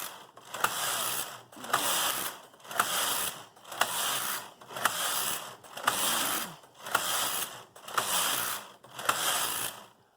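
A Brother KH970 knitting machine working Fair Isle in two colours, its carriage sweeping back and forth with rhythmic mechanical ratcheting and clacking, each pass followed by a short pause, steady and close.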